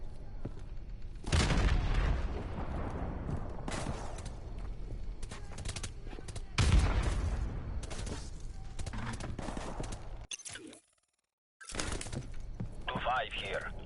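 Grenade blast and rattling gunfire in the Modern Warfare Remastered game, two loud booming bursts with crackling shots between, a brief silence near the end, and a voice over radio-like chatter in the background.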